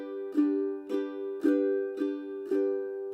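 Ukulele chords strummed in a straight, even rhythm without swing, six evenly spaced strums over about three seconds, close and clear with ringing sustain between them.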